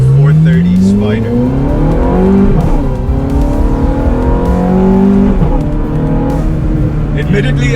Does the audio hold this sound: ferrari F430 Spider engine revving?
yes